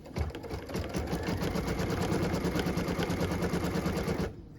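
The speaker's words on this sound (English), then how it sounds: "What we're stitching now is the tack down line for piece number 11." An embroidery sewing machine stitching a tack-down line on a pieced quilt block, a rapid even mechanical chatter running steadily for about four seconds before stopping, close and alone.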